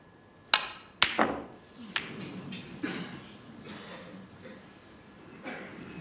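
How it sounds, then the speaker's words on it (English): Snooker balls clicking on a championship table as a red is potted to the right corner, a sharp cue-ball strike followed by several lighter knocks that fade into faint hall ambience. "just potting this red to the right corner, screwing back for the blue"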